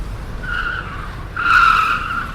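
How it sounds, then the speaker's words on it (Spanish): A car swerves hard, its tires squealing across the road in two rising, shrill bursts, the second louder and longer, with a low rumble underneath. "dio un volantazo que casi le saca del carril"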